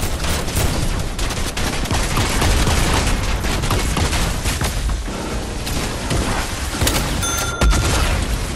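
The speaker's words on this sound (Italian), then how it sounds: "mi ha preso l'esplosione" Explosions and gunfire in a Fortnite match, a dense, loud barrage of blasts and rapid shots with little pause, heavy booms standing out near the end.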